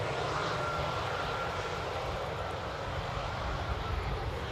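An airliner passes overhead on arrival at Amsterdam Airport in rain, with a steady, loud roar of broadband engine noise that holds evenly throughout, with no voices.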